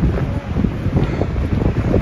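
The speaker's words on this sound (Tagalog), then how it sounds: "Kusugin hangin dali, no?" Strong wind buffets the microphone at a high-elevation outdoor spot, a loud, continuous rumbling roar with gusty swells and no voices.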